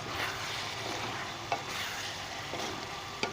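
Beef mince frying with salt, chili, turmeric, black and white pepper and garam masala, a steady sizzle with occasional sharp spoon scrapes as the spices are stirred in, close and continuous.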